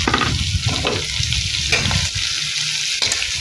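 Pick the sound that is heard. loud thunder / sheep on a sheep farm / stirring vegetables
stirring vegetables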